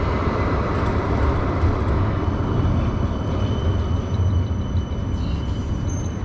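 Steady low rumble of a tram rolling along a street in Luxembourg City, loud and continuous, with faint higher squeals near the end.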